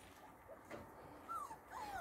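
A dog whimpering while it guards its puppies: thin, high, drawn-out whines in a few short bursts, fairly faint against a quiet background, with no talking.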